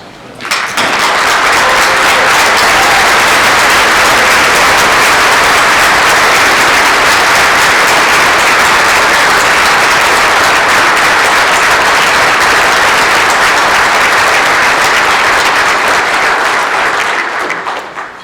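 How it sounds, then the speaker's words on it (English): A standing ovation at an agricultural gathering: dense, sustained applause from a large crowd fills the room, swelling in quickly and holding steady at full strength for over fifteen seconds before tapering off at the end. "could you just please stand and join me in recognizing him with an ovation"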